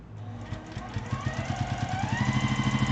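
A sewing machine making mats runs below half speed, with a steady mechanical whir and a regular pulsing chug that grows slightly louder and quicker toward the end. It is close and heard alone.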